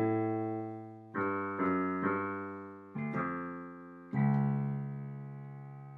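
A brass section of trumpets, trombones, French horns and tubas plays the low, menacing Sultan's theme from Scheherazade, with several accented heavy chords that swell and decay, recorded fairly quietly without talk.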